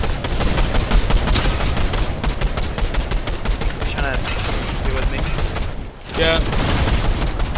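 Rapid bursts of automatic gunfire in a Fortnite-style building shooter, loud and continuous through the clip, with brief pauses and players' voices talking over the shooting.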